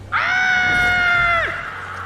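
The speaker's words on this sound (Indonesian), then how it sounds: "Dawn teriak gara-gara nengok sosis Toby yang udah dimakan sama Quiting" A woman in a horror film scene lets out a single loud, sustained scream lasting over a second, cutting off sharply and followed by a lower background rumble.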